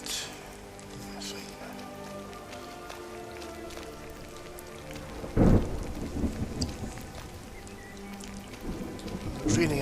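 Rain patters steadily in a video game while a loud thunderclap cracks midway and rolls off, with further rumbles and someone speaking now and then over the storm.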